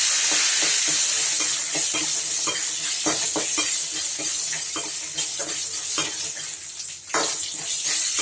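Dried vathal berries frying in oil in a pan for vatha kuzhambu, a constant close sizzle broken by frequent stirring clicks and scrapes of a spoon against the pan.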